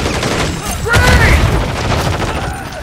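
A grenade explodes in a shooter video game in a loud, brief burst amid surrounding gunfire, with battle voice callouts mixed in.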